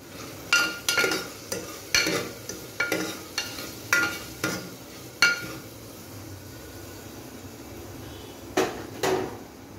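A spoon stirs and mixes ingredients in a cooking pan with a run of sharp, close scraping strokes in a quick, uneven rhythm. The strokes stop for a few seconds, then two more follow.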